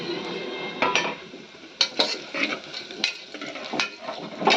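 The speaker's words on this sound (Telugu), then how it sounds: "జీడిపప్పు, లవంగా, స్టార్ ఇవన్నీ దీంట్లో వేస్తుంది" Cashews, cloves and star anise drop into a frying pan for mushroom biryani, giving irregular clinks and scrapes of a spoon against the pan over a light sizzle, close by and without speech.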